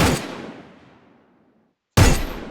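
Two sharp gunshots sound in a shooter video game. The first has a long decaying echo that fades to silence, and the second bursts in near the end.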